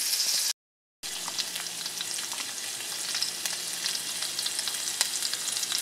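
Salmon fillet frying in a pan, a steady close crackling sizzle that runs throughout after a brief silent gap near the start, with occasional sharper pops.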